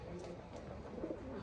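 Andhra pigeons in a loft give soft, faint cooing amid low background murmur, with a voice talking quietly nearby.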